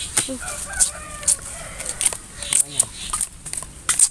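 Chickens cluck and chirp at a backyard chicken coop, short overlapping calls scattered throughout at close range, with people talking nearby.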